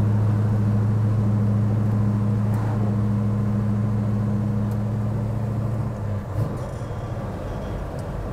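A 1970 Chevy Chevelle SS 454 with a 5-speed gearbox hums steadily at a low idle-like drone as it shifts down through the gears, with a brief change in the engine note near the end and no talking.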